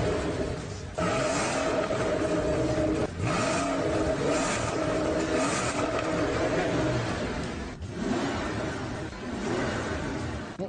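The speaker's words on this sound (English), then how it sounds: "Now you just listen to the sound of this engine." A Bentley SUV engine is revved while parked, giving several rising roars separated by short dips, loud and near with no talk over it.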